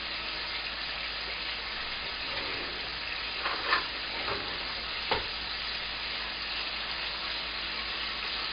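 Marinated meat sears in a hot pan with a steady, close sizzle, broken by a couple of brief louder crackles or utensil touches partway through, and no voices.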